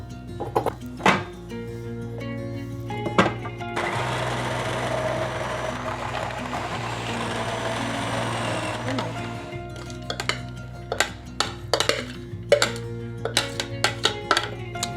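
A small food processor grates carrots for a carrot cake, a loud whirring grind lasting several seconds between scattered kitchen clatter and thumps.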